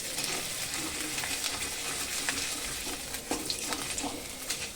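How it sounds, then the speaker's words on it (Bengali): Ginger fries in hot oil in a pan, a close, continuous crackling sizzle with sharp pops and spits scattered through it, plus faint stirring scrapes. "আদাটা একটু ভেজে নিতে হবে তাহলে সেন্টটা খুব সুন্দর আসবে"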